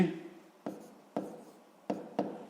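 Pen or pencil writing by hand on paper during a sixth-grade maths exercise, with four short scratchy strokes spaced apart, close and fairly quiet, with no voices.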